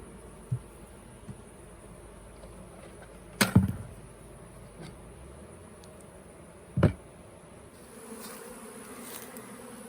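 A honey bee swarm drawn to queen cages left out at the hives, a steady low buzzing hum throughout with a few sharp close knocks and taps.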